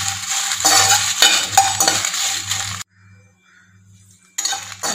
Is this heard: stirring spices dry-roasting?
yes